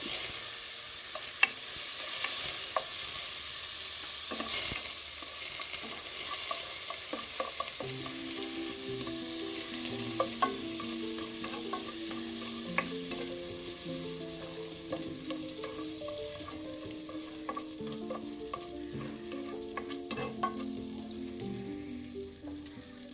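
Homemade butter melts in a pot for a Kerala white chicken soup, giving a continuous gentle sizzle with repeated light stirring and spoon taps that grow busier as it bubbles.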